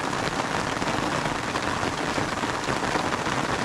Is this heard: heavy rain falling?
yes